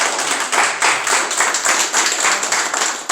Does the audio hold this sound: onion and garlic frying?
no